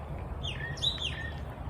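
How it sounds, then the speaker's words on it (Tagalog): Birds chirp and tweet outside a house as spring approaches, a few thin, fairly faint calls rising over a steady low background rumble. "At papakinig niyo po mga ibon at masaya at nagtutweet-tweet."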